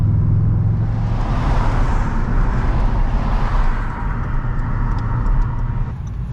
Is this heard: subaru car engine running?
yes